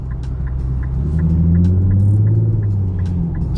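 An Infiniti Q50 fitted with a limited-slip differential accelerates hard onto an interstate, giving a loud, steady engine rumble that rises in pitch, with faint regular ticking above it.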